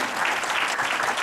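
A church congregation claps steadily through a sermon, a dense, even wash of applause with no voices heard over it.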